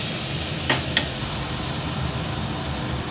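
Low-cholesterol butter melts in a pan for street-style masala pav, giving a steady close hiss and sizzle throughout with a couple of brief scrapes, no voices.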